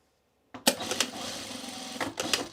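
A home sewing machine runs its automatic tack stitch, starting with a sharp mechanical clunk, then a steady close whir for about a second and a half, ending in a few quick clicks.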